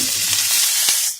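Eggplant sizzles loudly in hot oil in a Bengali kitchen, a steady bright hiss alone for a moment before fading.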